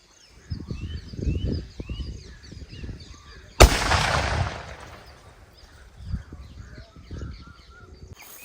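A 4-inch gold drum firecracker bursts in one sharp, loud blast partway through, its roar decaying over a couple of seconds, with quieter outdoor bangs and noise before and after.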